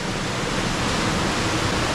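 Water rushes steadily through the rock troughs of the Kožbanšček stream in Goriška Brda, a dense, unbroken roar that fills the whole moment at close range with no voices.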